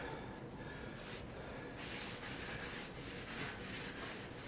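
Cloth towel rubbing over wet paint on a wooden surface to wipe off excess for an antique finish, a faint, steady scrubbing swish with soft breathy strokes close by and no talking.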